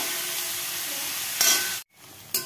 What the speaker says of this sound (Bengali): এখানে হচ্ছে সব কিছু ভাজা